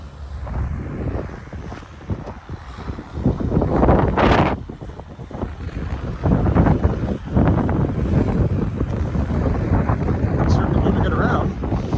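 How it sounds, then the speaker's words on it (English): Gusty wind buffeting a microphone outdoors while walking by a creek in Regina at minus 19 degrees, a loud low rumble that rises and falls over twelve seconds with a voice speaking underneath. "the wind is quite sharp, as one would expect at minus 19 with the wind blowing."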